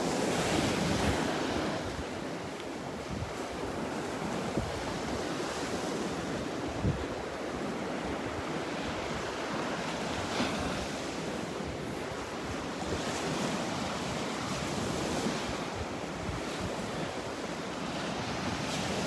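Surf washes steadily onto Vanderbilt Beach in Florida, with continuous broadband wave noise and strong wind buffeting the microphone throughout.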